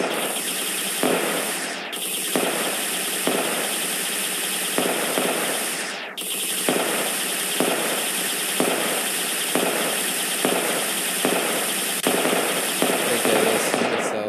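Missiles fire and explode in a GameSalad shoot 'em up game, a loud synthetic whine running throughout, punctuated by repeated rhythmic bursts and a couple of sharp descending sweeps, with no speech.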